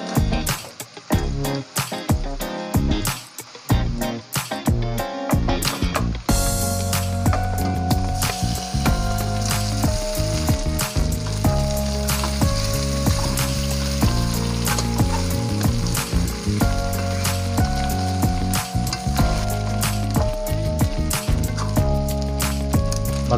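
Duck meat for kaldereta dropped into a hot pan, a sharp burst of spattering at first, then a steady, loud, crackling sizzle of frying that carries on throughout, close up, no talk.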